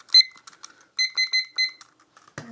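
A digital timer used for cupping dark-roast coffee gives a few scattered electronic beeps, then a quick run of four bright, evenly spaced beeps close by. A clatter follows at the end, with no talk.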